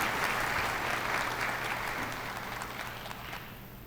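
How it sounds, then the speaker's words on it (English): A graduation ceremony audience gives a round of applause, steady dense clapping that slowly thins and fades over a few seconds. "Graduates, would you celebrate them with me today in a round of applause?"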